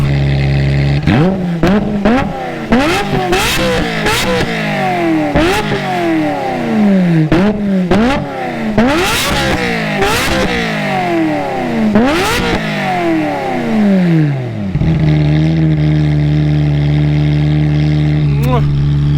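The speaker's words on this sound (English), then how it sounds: "Before I pull it in, I had to do a little bit of rev for you guys because I know you need that." A Ferrari 355 F1 engine blips through a rapid series of sharp revs, each rising and falling in pitch, before dropping back to a steady idle.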